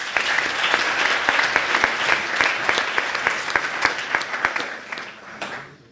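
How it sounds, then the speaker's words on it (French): An audience at a French eloquence contest applauds after a performance, a loud continuous clatter of many hands with sharper individual claps standing out, tapering off toward the end. "très bonne prestation, on peut l'applaudir, s'il vous plaît"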